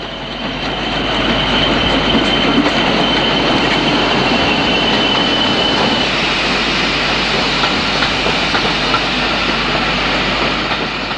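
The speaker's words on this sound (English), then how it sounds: "an unidentified loco looks to be working a Cambridge to King's Cross service at Finsbury Park" A British Railways Class 40 diesel locomotive hauls a Cambridge to King's Cross service at Finsbury Park, giving a loud, steady roar of engine and rolling wheels that fills the whole stretch with a faint high squeal.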